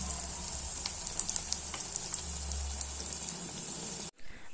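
Mashed fish mixed with spices fries in a pan at home, making a steady rain-like sizzle with light crackles and a low hum underneath, then cutting off abruptly near the end.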